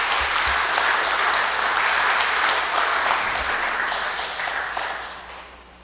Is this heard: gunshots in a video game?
no